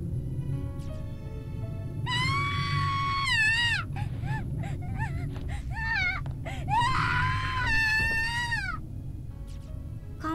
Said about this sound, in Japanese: 女の子の悲鳴が上がる。